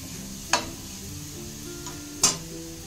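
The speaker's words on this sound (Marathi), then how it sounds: "आता मी व्यवस्थित मिक्स करून घेते।" Grated carrot for carrot halwa is stirred in a pan, two sharp spoon scrapes and a fainter one over a soft, steady sizzle, with no speech.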